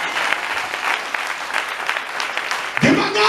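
Congregation applauding during a night vigil sermon, a steady wash of clapping from a crowd that runs throughout, with a voice breaking in near the end.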